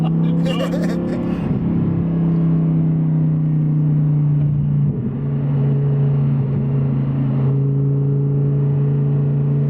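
An Audi R8 V10 with a manual gearbox pulls hard through its gears, a loud, close engine drone rising and dropping at each shift, with a voice talking over it.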